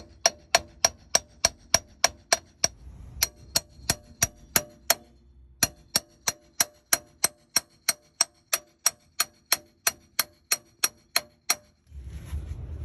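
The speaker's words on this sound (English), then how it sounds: "you take a center punch or a hammer and just work that out" Steady, sharp metal-on-metal hammer strikes on a center punch, around two per second, repeat for several seconds with a brief pause partway, close and loud with no talking, while replacing the driver-side CV axle on a 2008 Honda Accord.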